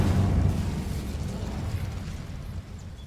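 An Incendio fire spell in Hogwarts Legacy erupts as a deep, rumbling burst of flame that fades over about three seconds, loud and close with no talk over it.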